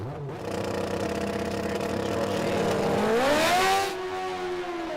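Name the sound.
drag racing car launching off the start line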